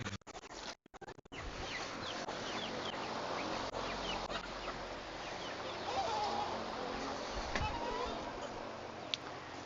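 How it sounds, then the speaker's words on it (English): Roughly fifty chickens cluck and chatter steadily inside a coop, a dense close chorus of overlapping calls with a few handling knocks near the start. "okay, 50 chickens in here"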